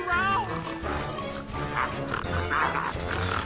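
A cartoon dog barks wildly in repeated yips and barks over busy background sound, with voices faintly mixed in.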